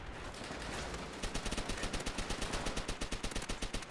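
Rapid automatic gunfire in the video game Call of Duty: World at War multiplayer, a dense steady stream of loud close shots firing in a fast even rhythm after a brief lead-in of noise.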